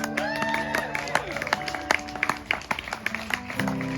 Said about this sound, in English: Let's give Larry a round of applause.